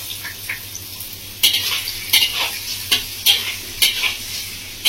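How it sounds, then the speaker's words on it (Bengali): Salt being stirred into a Bengali village-style katla fish curry with raw mango in a pan, a close steady sizzle broken by regular scraping spoon strokes about twice a second, with no talk. "লবণটাকে দিয়ে ভালো করে মিশিয়ে নিচ্ছি।"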